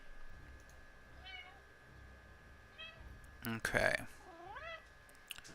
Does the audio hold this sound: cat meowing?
yes